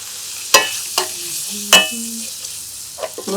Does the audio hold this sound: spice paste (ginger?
yes